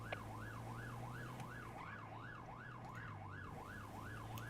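A police siren in a roleplay video game, Victoria Police patrol car, wails in a steady rising and falling cycle, fairly faint over a low engine hum, with no talk.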